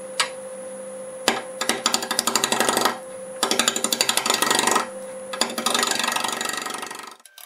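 A bowl gouge cuts at a wood lathe spinning around 700 rpm, trimming a nub off a segmented wooden sphere in rapid rattling bursts separated by short pauses, before the lathe winds down at the end.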